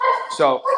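Dogs give a few short, close yips and barks in quick succession, mixed in with a person's speaking voice.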